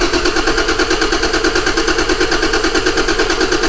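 A Toyota Land Cruiser 80 series engine cranks over with a fast, even, rhythmic chugging from the starter, loud and close, continuing without catching.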